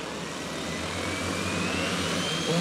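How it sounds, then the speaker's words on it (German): Four-stroke engines of a wooden RC model Dornier Do X flying boat (1929 design) run in unison, giving a steady, droning buzz with a slowly shifting whine, heard continuously at moderate distance. "unsere Viertakt Flugzeugmotoren im Gleichklang auf einer wunderschönen, ganz in Holz gehaltenen Konstruktion eines der berühmtesten Flugzeuge"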